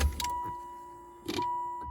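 A 1987 Pontiac Fiero starts up with a brief mechanical whir and electrical hum, followed by a second short surge as something switches on, with no talking.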